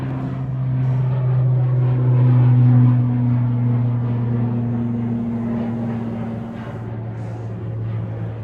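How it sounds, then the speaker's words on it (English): A Loganair plane bound for the Isle of Man takes off from Manchester Airport, its engines a loud, steady droning hum that swells and then slowly eases off, heard from a distance with no talk. "Logan Air off to the Isle of Man there"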